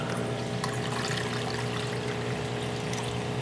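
Water carrying fish fry is poured into a tank in a continuous, even rush of splashing and trickling, close and steady from start to finish.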